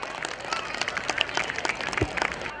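Audience at a community wedding celebration and get-together in Surat applauding a guest, a dense burst of many hands clapping for under three seconds, loud and close, with faint crowd murmur beneath.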